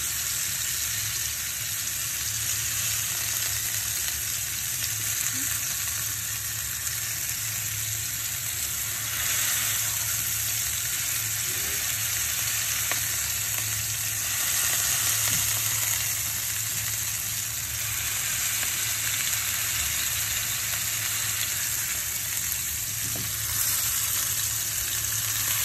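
A hamburger meat patty, pressed flat, fries on a hot griddle with a continuous, even sizzle that swells slightly now and then and carries no voices.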